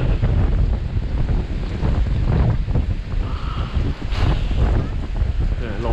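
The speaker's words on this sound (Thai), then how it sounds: "ลมเริ่มแรงขึ้นนะฮะ" Strong wind blows by the Mekong river, a loud, constant roaring rush buffeting the microphone for the whole stretch, with faint water and surf texture beneath and no clear speech.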